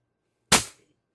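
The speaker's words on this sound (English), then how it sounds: "1000 psi is plenty of pressure to drive those 11-gram balls downrange" One sharp, loud burst from an HPA launcher firing an 11-gram riot ball at 1000 psi, a sudden crack that decays within a quarter second, with silence before and after.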